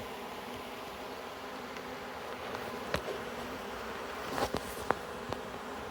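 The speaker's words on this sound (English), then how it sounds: "if you don't see the bees coming back out like crazy" Honeybees from a swarm taken off a branch drone softly and continuously, with a few sharp clicks and knocks scattered over the buzzing.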